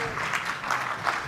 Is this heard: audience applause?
yes